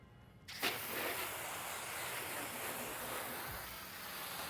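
Steady hose spray rinsing a ceramic-coated car during a home wash, a broad continuous hiss of water starting abruptly after a brief quiet moment and holding loud and even throughout.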